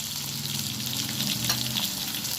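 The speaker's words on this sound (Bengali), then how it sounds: "আলুগুলো খুব ভালোভাবে ভাজা হয়ে গেছে," Potato pieces fry steadily in hot oil with cumin seeds, slit green chillies and bay leaves, a constant close sizzle broken by the occasional scrape of stirring in the pan.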